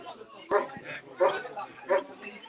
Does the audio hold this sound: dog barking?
yes